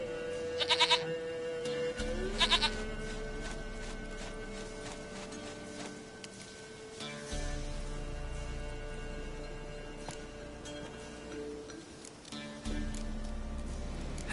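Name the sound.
goat bleating in the video game The Witcher 3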